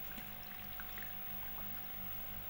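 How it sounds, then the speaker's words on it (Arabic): Water poured over turnips in a jar for pickling, a steady continuous splashing and trickling stream, close and unbroken, with no talking. "حط ميه بقى كده على قد عليها كلها بالشكل ده"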